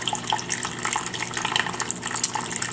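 Water trickling down a curved streambed in a stream table, a close, continuous babble with fine splashy bubbling and dripping, no talking.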